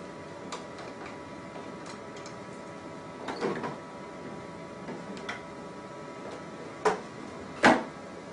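Quiet mechanical clicks and plastic clunks as the heated roller assembly is unlatched and pulled free from a Zebra ZXP Series 8 card printer laminator, ending in two louder knocks.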